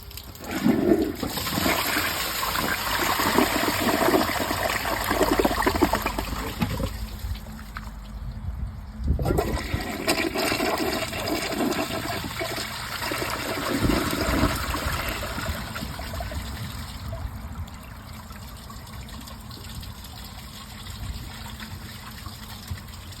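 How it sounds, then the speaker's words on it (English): Two dual flush toilets flushed one after the other: a 2023 Glacier Bay high efficiency model and a Kohler Wellworth Ingenium. A loud, steady rush of water swirls and drains, briefly dips, then surges and gurgles on as the bowl refills. "let's give both of these toilets a flush and see which toilet performs better"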